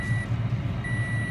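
Car seatbelt warning chime: a steady high electronic tone sounds in two stretches separated by a short gap, over a low engine rumble inside the vehicle.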